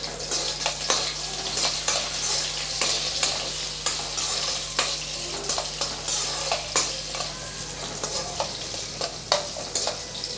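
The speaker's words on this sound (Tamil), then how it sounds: "ஒரு ஆறுலேருந்து ஏழு சின்ன வெங்காயம் சேர்த்துக்கலாம் அதையும் சேர்த்து நல்லா வதக்கி விட்டுக்கலாம்" Small shallots sautéing in a pan for a potato side dish, a steady sizzle with repeated sharp scrapes and clinks of a spoon stirring against the pan throughout.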